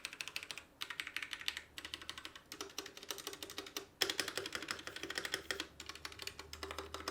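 Typing on a Royal Kludge RK68 budget mechanical keyboard with stock keycaps, a rapid close clatter of keystrokes in bursts separated by brief pauses, no voices.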